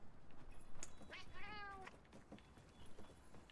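A single drawn-out cat meow from the Monster Hunter Wilds video game, mid-loud and clear over a low game background hum, with a few soft clicks before it and quieter ambience after.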